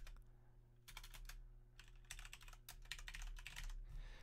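Typing on a computer keyboard, bursts of quick keystrokes in short irregular runs with pauses between, close and fairly quiet over a steady low hum.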